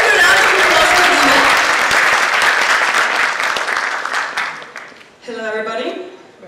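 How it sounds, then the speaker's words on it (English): A conference audience at the Glocal International Teen Conference 2017 applauds Nina, a loud, dense burst of clapping that gradually thins out, followed by a voice speaking into the microphone at the end. "Let's give a round of applause for Nina."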